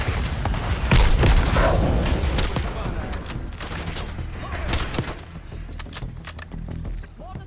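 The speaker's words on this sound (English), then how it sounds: "Mortar strike made short work of that situation." Mortar strike in Call of Duty: Black Ops 6, a loud rumbling barrage of explosions and gunfire that rolls on continuously, gradually thinning into scattered bangs and crackles with a voice talking over it.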